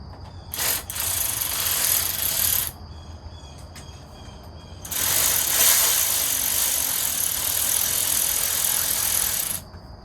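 Hand tools working on a 2023 Triumph Thruxton RS, taking off the seat and freeing the fuel tank mounts: two long bursts of loud, close, rapid ratcheting, separated by a quieter pause with faint clicks.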